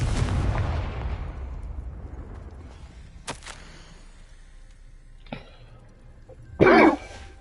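A Confringo fire spell in Hogwarts Legacy bursts out as several sharp blasts over a low game-ambience rumble, two brief cracks midway and a louder, longer fiery burst near the end.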